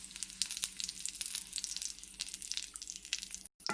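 Okra with curry leaves fries in hot oil, a close, steady sizzle broken by frequent sharp pops and spatters, with a brief break near the end and no voices.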